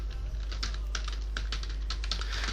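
Typing on a computer keyboard while building billing software in Excel: rapid, close key clicks in an uneven stream, with no talking.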